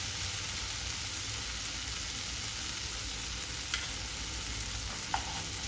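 A teaspoon of ginger garlic paste sautés with softened tomatoes in a pan for tomato rice. It makes a constant even sizzling hiss, broken by a couple of faint utensil clicks.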